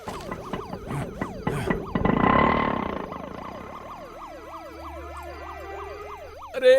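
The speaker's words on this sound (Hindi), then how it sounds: "पुलिस का सायरन है, अभी निकल" A police siren wails in rising and falling sweeps, loud and close, while a burst of broadband noise swells briefly midway and another sound rises at the end.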